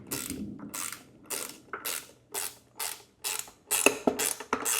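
A stick-shift ratchet tool tightening a socket, clicking in about eight short bursts with brief pauses between, close and fairly loud with no voices.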